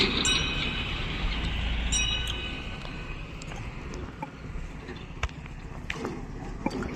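A train crossing a railway bridge over the Disang river, a continuous low rumble of wheels and wagons heard from a moderate distance, with faint clicks and brief high squeals, slowly fading toward the end.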